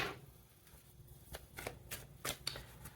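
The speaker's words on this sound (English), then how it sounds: "Next, we're going to pull an animal oracle card." A deck of animal oracle cards is shuffled in a few quick riffling bursts, close and quiet, over about three seconds with no speech.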